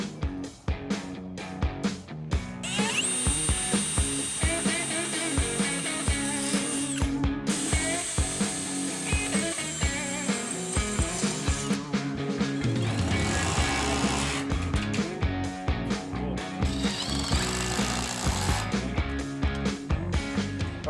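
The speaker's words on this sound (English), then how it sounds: "we're going to drill a hole here, skip 6 slots, drill another hole" A power drill bores a series of holes in a track for large DIY sliding doors, its whining bursts starting and stopping repeatedly over about twenty seconds, loud and close.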